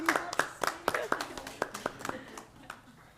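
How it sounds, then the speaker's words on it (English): Scattered hand claps from a city council meeting audience, a few distinct sharp claps in uneven rhythm that thin out and fade near the end, with a voice speaking briefly near the start. "Hey, round of applause."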